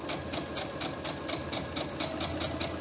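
A sewing machine stitches a fabric necktie, running steadily in a quick, even rhythm of close mechanical clicks and whirring, held at a constant pace for the whole stretch with no talk.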